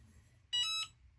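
A mug heat press gives a single short electronic beep, bright and clear, lasting about a third of a second against a quiet room hum.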